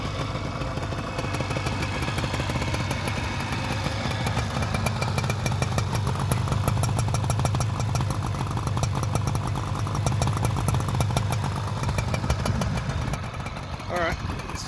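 A 1975 Suzuki GT185 two-stroke motorcycle engine runs with a rapid, buzzing, steady beat, close by and continuous for the whole stretch, with a brief rise in pitch near the end.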